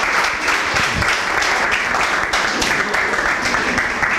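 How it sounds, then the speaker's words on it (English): An audience at a university debate on China's economic influence applauds the two teams, giving dense, steady clapping that stays loud throughout. "Let's give another round of applause to the two teams."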